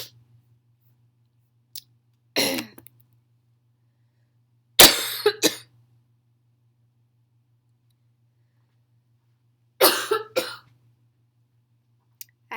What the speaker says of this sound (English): I just had a coughing attack.